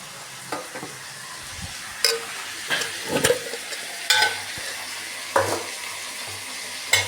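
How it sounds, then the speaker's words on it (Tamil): Curry leaves dropped into hot oil for a chilli pickle, sizzling and spattering in a pan with a series of sharp stirring scrapes and clinks at intervals, close and without talk. "இதுக்கப்புறம் ஒரு கொத்து கருவேப்பிலை ஆட் பண்ணணும்"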